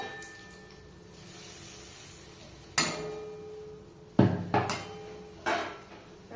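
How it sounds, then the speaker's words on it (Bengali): A lid goes onto a kadai of mushroom and potato curry simmering in water. A few sharp, close clanks and knocks stand out against a quiet kitchen hush. "এবার ঢাকা দিয়ে দেবো।"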